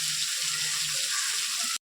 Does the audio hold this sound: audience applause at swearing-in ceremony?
no